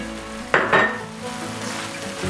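Egg pepper fry cooking in a pan, a sizzle with a couple of quick stirring scrapes up close, followed by a soft steady frying hiss.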